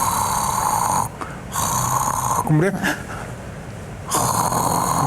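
A voice imitates a snoring pattern, giving rough, rattling snore sounds broken by pauses of silence that suggest stopped breathing, up close and with speech around it.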